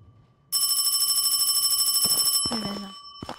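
A telephone rings in the Hong Kong horror video game 港詭實錄 with a loud, rapid electronic trill that cuts in suddenly, continues for about two seconds, then gives way to a short voiced sound.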